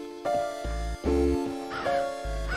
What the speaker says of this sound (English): There's a crow in the cornfield.